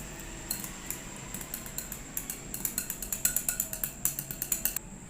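Mango pulp is stirred in a bowl for homemade mango ice cream, making a quickening run of close, bright clinks as a utensil knocks the rim about twenty times, with no talking.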